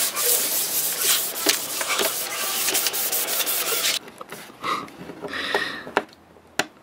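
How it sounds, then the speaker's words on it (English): A wooden desk being sanded by hand: loud, continuous rough rubbing and scraping that runs steadily at first, then turns into quieter, intermittent strokes, with no talking. "First, you want to sand it."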